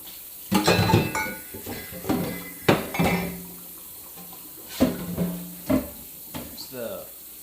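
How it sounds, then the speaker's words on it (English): Dishes and cutlery clatter in a kitchen sink in several bursts, with water running from the tap and a voice briefly speaking nearby. "I'm going to go wash these real quick."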